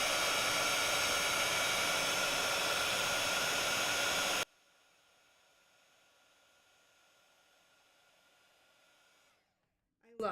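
Heat embossing tool blowing hot air over cardstock, a loud steady whooshing hiss close by for several seconds that cuts off abruptly, followed by quiet.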